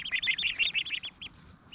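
Young Ancona ducklings and Cotton Patch goslings make a rapid, dense string of shrill peeps up close that thins into a few scattered chirps near the end.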